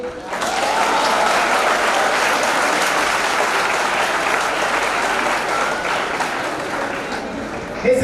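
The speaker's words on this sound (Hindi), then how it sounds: "तालियां बजाइए।" Sustained, dense applause from a large audience at a pharmacy institute event in Gorakhpur, loud and continuous for several seconds before tapering off slightly near the end.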